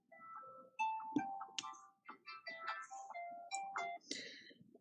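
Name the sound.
phone alarm reminder for medication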